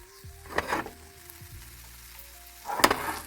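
Food sizzling in butter in a frying pan, a quiet steady fizz broken by two louder bursts of sputtering and stirring, with no talking.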